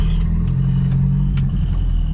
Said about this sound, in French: Voilà ce que c'est que de conduire une Corona de 67